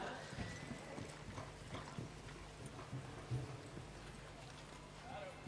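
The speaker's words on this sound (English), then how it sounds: "This particular horse is an open stallion owned by the Smiths." An open stallion's hooves striking the ground on a competition course, soft irregular thuds that are quiet and distant, with faint background murmur.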